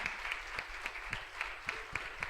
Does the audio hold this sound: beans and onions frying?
no